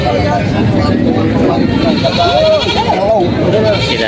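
Goats at a livestock market in Padre Garcia, Batangas, bleating repeatedly over a dense, loud crowd hubbub with people talking throughout.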